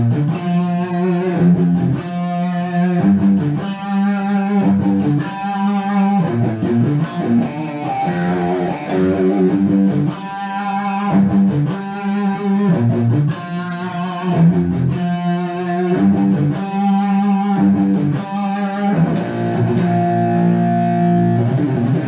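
A distorted electric guitar plays the chorus of a song, chugging rhythmic power chords in repeated bursts with crunchy overdrive, loud and close, alone without voices.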